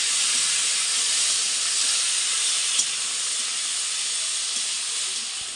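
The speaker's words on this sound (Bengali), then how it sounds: "এখন ভাজবো পনিরটা" Paneer fries in hot oil in a kadai, a bright, steady sizzling hiss that stays loud and close throughout, with no talking over it.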